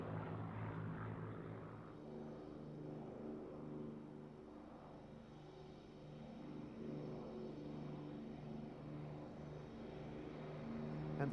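An Avro Lancaster B1 bomber flies at an air show, its piston engines producing a continuous droning rumble that holds steady at moderate distance for the whole stretch, with no talk.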